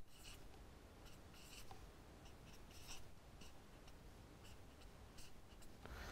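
Pen strokes scratch across paper while nodes of a Bayes net diagram are drawn, a soft, steady run of short scribbling bursts at close range with no talk.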